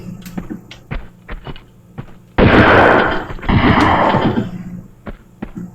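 Two loud, booming gunshots ring out in the Tomb Raider 2 video game level Wreck of the Maria Doria, each with a trailing echo. They follow quieter game clicks and footsteps.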